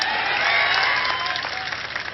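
A crowd claps at an Indian political rally, a dense burst of applause that holds strong then thins slightly toward the end.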